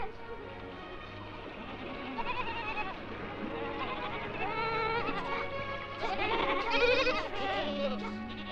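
Several goats bleat close by in a rural Mongolian setting, overlapping wavering cries that grow louder toward the end, with a faint steady hum beneath.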